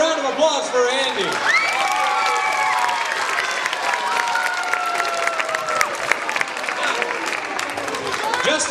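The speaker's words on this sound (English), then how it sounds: "How about a round of applause for Andy?" Elementary school students in a group give a round of applause, dense continuous clapping with some cheering, loud and close, while an adult voice and whistling tones sound over the crowd.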